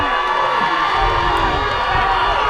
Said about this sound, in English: the Howe crowd is not happy